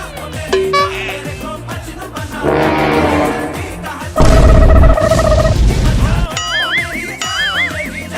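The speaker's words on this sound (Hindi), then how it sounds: "अरे ये तो बड़ा पटाखा फूट गया।" Diwali firecrackers bursting during a family festival comedy scene, a series of loud booms and crackling blasts, close and forceful, with bright whistling or screeching effects near the end.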